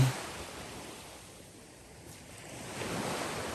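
Ocean waves washing through ankle-deep shallow water off North Andros Island in the Bahamas, a soft, steady hiss of surf with gentle swells rising and falling, fairly faint and without voices.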